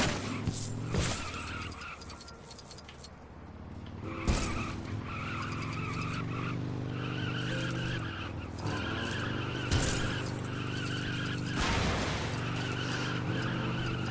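Tyres skid and squeal as a Lego motorcycle is driven in a video game, with a continuous engine drone and several sharp skid bursts over the whole stretch, loud and close, plus background game music tones.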